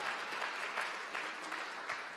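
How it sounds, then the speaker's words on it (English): A church congregation claps for its senior pastors in a dense, continuous round of applause. No voices rise above it. "So why don't we clap our hands for your senior pastors one more time."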